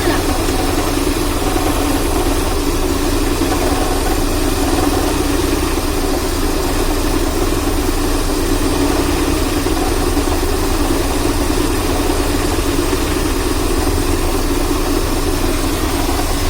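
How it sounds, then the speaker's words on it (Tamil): A Maruti 800 car's engine idles steadily, a continuous low mechanical hum and vibration heard up close, with no noticeable rise or fall in revs. "இப்போ பார்த்திங்கன்னா வண்டியை ஸ்டார்ட் பண்ணியாச்சு."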